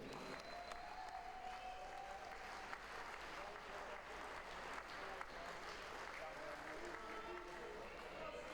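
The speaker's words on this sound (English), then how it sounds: "another round of applause for your British Classic finalist, Denise Cassidy." Audience applause at the presentation for the ladies finals of a British Classic darts tournament, a continuous even wash of many hands clapping, heard faintly and from a distance for the full length.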